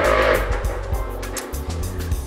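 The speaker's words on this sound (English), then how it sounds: "I also hate that tricycle noise" A motorized tricycle rumbles past up close, its rough engine growling loudly at first and then settling into a throbbing drone with sharp rattles on top.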